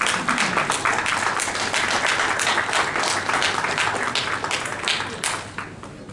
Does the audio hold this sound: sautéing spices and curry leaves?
no